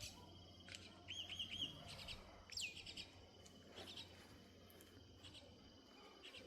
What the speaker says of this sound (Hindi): गौरैया की आवाज़ आपको सुनाई दे रही होगी,